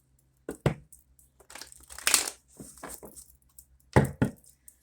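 A tarot card deck is shuffled close by in several quick, papery bursts separated by short pauses, with no talking.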